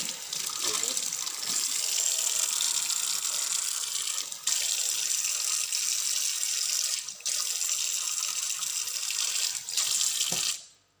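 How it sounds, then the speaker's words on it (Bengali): Water gushes steadily from a tap or hose to wet a potted plant, running loud and close with a few brief pauses, then stopping near the end. "আমি একটু পানি ছিটাও দিব"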